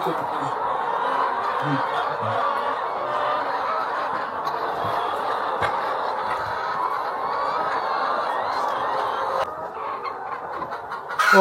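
Laying hens cluck and chatter continuously in a busy, close coop, with a steady dense murmur of bird calls throughout.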